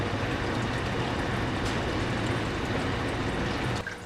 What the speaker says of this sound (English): excuse the noise of the filter on the fish tank in the background